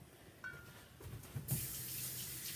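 A water tap runs into a sink for hand washing in a home kitchen, starting after a few quiet moments with faint handling noises and then gushing steadily and close by.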